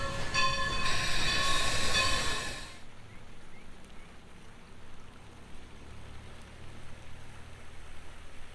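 Steam train of the Everett Railroad, its loud whistle blowing for about two seconds before cutting off, followed by a quieter steady rumble and hiss of the train moving, with no voices.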